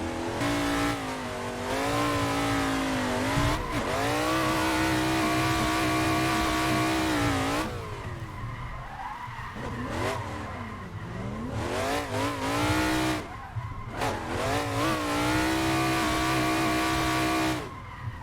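Race car engine in a Formula Drift sim racing game at Seattle, revving hard and shifting pitch continuously while the tires squeal through long drifts, loud and steady throughout with no talking.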